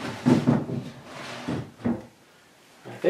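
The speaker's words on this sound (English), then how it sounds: "So let's try it in the drawer now." A wooden drawer of a handmade chest of drawers slides in with a few soft, short wooden scrapes and knocks, close by, separated by quiet pauses.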